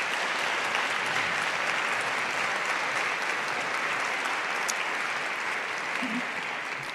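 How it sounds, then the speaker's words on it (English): Audience applause for teacher finalists at an Enid Public School Foundation education celebration, a dense, even wash of clapping from a large crowd, steady for the whole stretch. "if we can just give them another round of applause"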